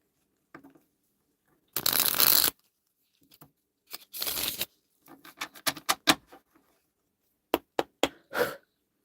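A deck of oracle cards is shuffled by hand in a spiritual reading, with a few crisp riffling bursts and scattered quick flicks and taps, close and clear, with no talk over it.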